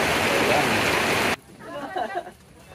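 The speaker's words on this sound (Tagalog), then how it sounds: "Grabe talaga, napakalakas ng ulan." Heavy rain pours down loudly and steadily at a mountain view deck in Dingalan, Aurora, a dense wash of noise that cuts off abruptly midway, leaving quieter ambience with faint voices.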